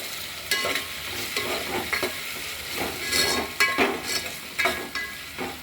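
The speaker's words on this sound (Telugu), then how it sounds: "వేగిన తర్వాత దాంట్లోనే టమాటా వేసి కలుపుకొని" Tomato is stirred into frying onions in a pan for onion pakodi pulusu, sizzling under repeated scraping spatula strokes in an irregular rhythm, close and clear, with no voices.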